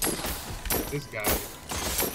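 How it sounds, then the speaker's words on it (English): Icy projectiles shatter in the Hunger Dungeon video game, several bright crackling bursts of breaking ice in quick succession, close and fairly loud, mixed with a player's voice. "They're shooting icicles towards me"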